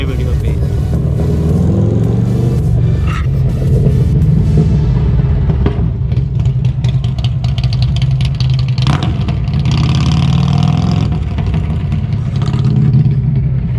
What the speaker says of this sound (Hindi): क्या साउंड है बाइक का, मज़ा आ गया।